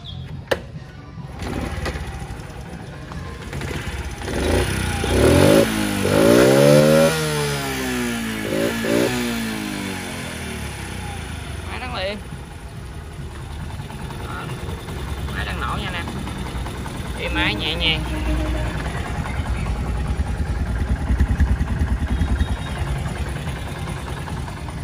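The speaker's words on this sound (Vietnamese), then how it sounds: "Rồi nổ máy nha anh em." A 2003 Honda CD Benly 50S, a small Japanese-market motorcycle, kicks into life with sharp revs that rise and fall, then settles into a steady close idle with occasional blips while someone talks over it.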